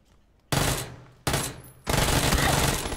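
Three sharp shotgun blasts in a video game firefight, each a loud sudden crack with a short decaying tail, roughly half a second to a second apart, the last followed by sustained noisy gunfire.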